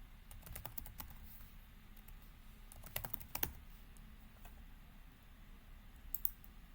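A password is typed on a computer keyboard: quiet, scattered keystroke clicks in short bursts with pauses between them, over a faint steady background hum.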